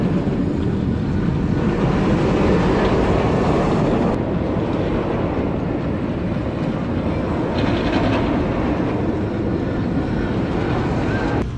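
An empty roller coaster train runs along its track at Kings Dominion amusement park, making a loud, steady, continuous rumble with wind noise throughout and no voices.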